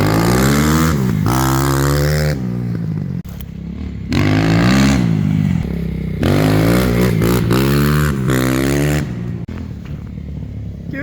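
Crossfire CFR300 dirt bike revving hard and accelerating with the front wheel lifting, a loud, close engine roaring up through rising pitch sweeps in several bursts, with brief drops between throttle pulls.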